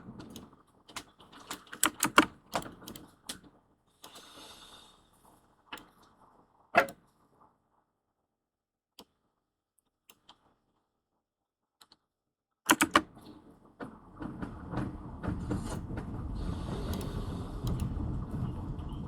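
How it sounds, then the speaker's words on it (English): Clattering keystrokes on a computer keyboard come in uneven bursts, then drop away into near silence with a few isolated taps, before a denser, steady rustling clatter returns toward the end. "A keyboard."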